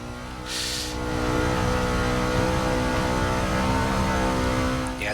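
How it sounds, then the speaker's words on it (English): An Indy car races past in Forza Motorsport 6 during a NASCAR season event: a steady, loud, high-revving engine drone that swells slightly and holds for several seconds, with no voices. "Goes an Indy car."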